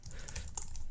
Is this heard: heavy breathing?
no